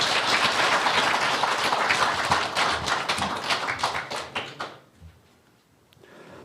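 At a public hearing on Vietnam War veterans' compensation, an audience claps loudly and densely for several seconds, the applause thinning into scattered claps and fading to quiet near the end.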